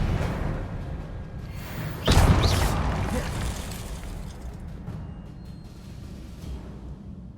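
Confringo spell blast in Hogwarts Legacy, one sharp explosive burst landing about two seconds in, followed by a slowly fading rumble and scattered debris-like crackles over low ambient game noise.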